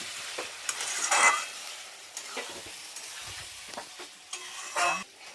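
Spice paste and potatoes stirred and frying in oil for a Bengali bhetki fish-bone dish, a steady sizzle broken by scraping strokes of the spoon in the pan, with two louder stirring bursts.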